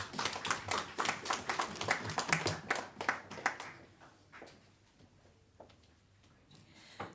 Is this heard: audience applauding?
yes